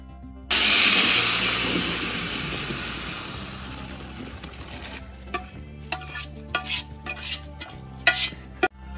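Pulao is stirred in a large pot for a housewarming party, opening with a loud hiss that slowly fades, then giving way to scattered scraping and knocking of the spoon against the pot, with no voices.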